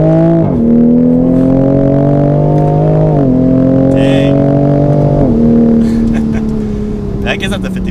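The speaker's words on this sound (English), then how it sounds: "So first real acceleration in a Supra." A Toyota A90 Supra in manual sport mode accelerates hard through the gears, its engine note climbing steadily and dropping at each of several quick upshifts. The sound is heard from inside the car, with brief voices in the background.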